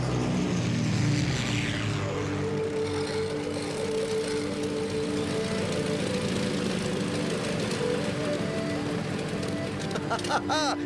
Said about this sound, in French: Atterrissage parfait. Tu es un super copilote, Wifi.